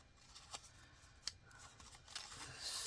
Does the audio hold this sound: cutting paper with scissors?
yes